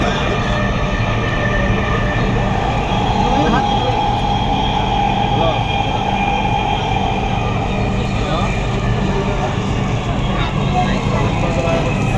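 A Dhaka metro rail train runs with a loud, steady rumble and roar of wheels on track heard from inside the carriage, continuous throughout with no break.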